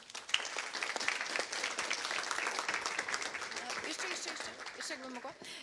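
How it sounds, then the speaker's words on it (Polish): An audience at a conference panel claps in a steady, dense round of applause that fades toward the end, as a voice begins speaking. "więc jeszcze raz wielkie brawa dla panelistów i panelistek."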